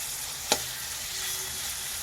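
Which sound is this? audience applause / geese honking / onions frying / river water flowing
onions frying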